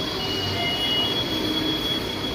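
A Manila LRT train at the station gives off steady, loud rail noise with a high, sustained wheel squeal running throughout, with no talk over it.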